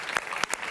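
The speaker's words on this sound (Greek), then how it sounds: "Ένα χειροκρότημα στα κορίτσια μας." Studio audience applause on a Greek television variety show: a short burst of a few sharp, separate claps, fairly close and clear.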